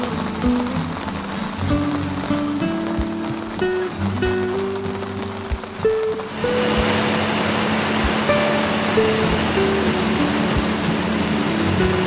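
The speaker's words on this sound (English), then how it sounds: "woke in the morning to a steady rain" Steady rain patters on an anchored boat near Church Creek, a dense drumming of drops that grows louder and fuller halfway through, with no talk.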